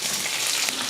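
Onions and fennel seeds sauté in hot oil in a kadai, giving a steady, close, loud sizzle with fine crackling throughout.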